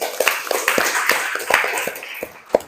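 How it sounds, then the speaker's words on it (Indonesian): A small group of students in a classroom claps scattered, uneven applause, sharp individual hand claps rising and falling for a few seconds. "Tepuk tangan dulu buat kalian."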